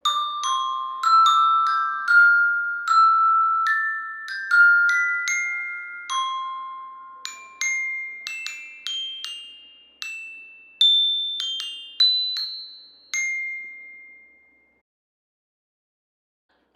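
Glockenspiel in an orchestral percussion setting, bright metallic struck notes ringing alone in a stepping melody, each tone clear and sustained before fading, the phrase trailing off into silence near the end.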